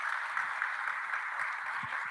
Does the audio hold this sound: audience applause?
yes